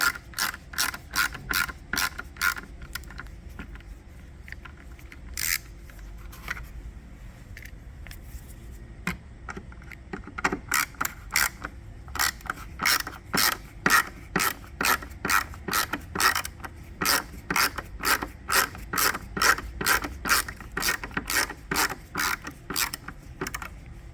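Hand ratchet turning out T20 screws from the tail lamp panel of a 2008 Lincoln Navigator: long runs of quick, evenly spaced metallic clicks, close and clear, with brief pauses between bursts.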